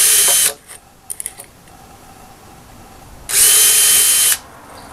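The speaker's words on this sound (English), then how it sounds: "I've drilled a number of holes from 4 to 8, and each one has its own heating rate, of course." A power drill bores holes in an aluminium drink can for a homemade can stove, with two loud whirring bursts separated by a quiet stretch containing a few short clicks.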